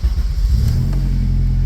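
A Honda car engine cranking and catching with the key, a low rumbling turnover that settles into a steady idle, close by.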